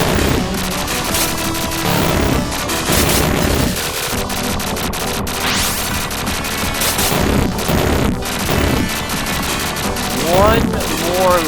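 A shoot-'em-up video game with rapid, loud, rhythmic shots firing nonstop, interspersed with zaps and bursts, while someone talks over the action.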